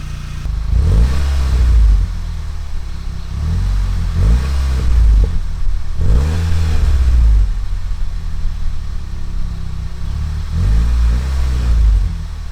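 A Volkswagen MK6 GTI fitted with a new catback exhaust revs repeatedly at close range, with several deep rising blips from a burbling idle, loud and without talk.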